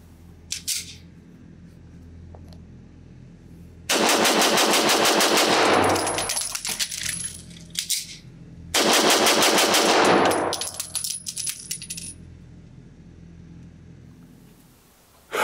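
Rapid pistol fire from a Taran Tactical JW3 Combat Master 2011-style handgun: two long, fast strings of close, loud shots, separated by a brief magazine change with clicks and handling noise.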